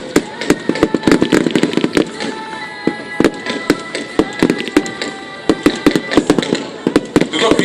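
Rapid gunfire and blank shots crack out during a military assault demonstration at the NATO Days 2013 air show in Ostrava, Czech Republic. Many loud, sharp reports come in irregular bursts and volleys, with a crowd and voices faint beneath.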